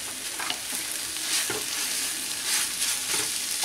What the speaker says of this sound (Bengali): একটু নাড়াতে হবে না হলে নিচ দিয়ে লেগে যাবে